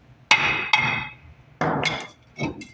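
A hammer strikes a stuck front brake rotor on a 2005 Nissan Frontier, four sharp metallic bangs in pairs with ringing decay and brief pauses between, close and loud with no speech.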